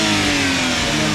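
The engine of a Suzuki Every Wagon DA64W 4x4 with manual transmission runs loud and close in a steady, even drone, with no clear rise or fall in revs.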